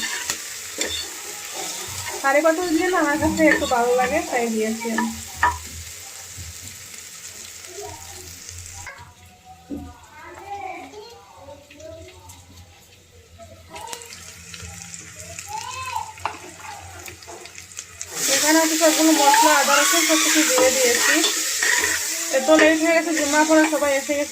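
Green chili, cumin, curry leaves and onion sizzle steadily while frying in a pan, with stirring scrapes and someone talking over much of it; the frying gets louder and busier toward the end.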